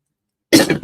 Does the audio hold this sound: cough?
yes